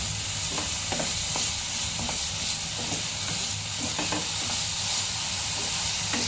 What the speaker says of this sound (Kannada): ಪನ್ನೀರ್ ಹಂಗೆ ಸುಮ್ಮನೆ ಫ್ರೈ ಮಾಡ್ಕೊಂಡು ಅದಕ್ಕೇನು ಹಾಕೋದು ಬೇಡ